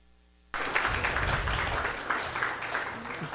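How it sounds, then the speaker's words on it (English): Applause for volunteers at an annual general meeting breaks out suddenly after a quiet moment and continues as a steady, dense wash of clapping from a gathered audience. "maybe just a round of applause for all of our volunteers over the last year"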